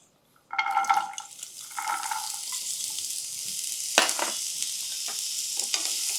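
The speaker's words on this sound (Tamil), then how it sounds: "எண்ணெய் விட்டுட்டு இந்த பரங்கிக்காயை வதக்கிக்கலாம்." Pumpkin pieces dropped into hot oil in a pan burst into a loud sizzle that settles into steady frying, with a sharp spatula scrape and stirring clatter partway through.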